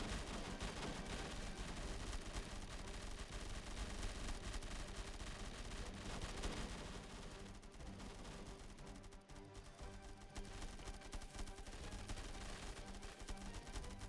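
Video game riflemen fire their guns nonstop, a dense continuous clatter of gunfire and explosions heard quietly in the background throughout.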